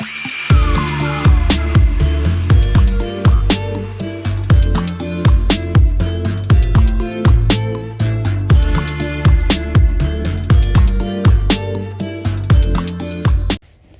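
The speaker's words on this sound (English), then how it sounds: "I'm going in with the trusty combo wrench setup." A combination wrench working a stubborn bolt on a second-generation Dodge Ram's suspension, giving loud, rapid ratcheting clicks in repeated bursts with brief pauses, close up and with no voices.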